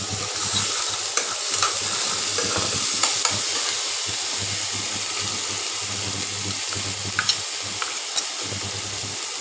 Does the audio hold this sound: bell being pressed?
no